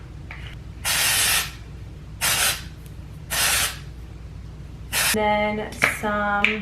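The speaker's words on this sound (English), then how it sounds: "Stronghold hairspray." Stronghold hairspray hisses onto hair in about five short, close bursts with pauses between them. A voice speaks briefly near the end.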